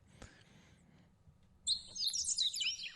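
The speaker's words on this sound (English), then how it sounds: "Birds, for crying out loud, you know?" Birds chirp in quick, bright bursts that start abruptly and flutter on, after a quieter stretch of faint background noise.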